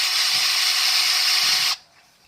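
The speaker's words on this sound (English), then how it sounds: "So I'm very lightly drilling right here." An electric drill bores through plexiglass, a loud, close, high whine lasting under two seconds before cutting off abruptly into quiet.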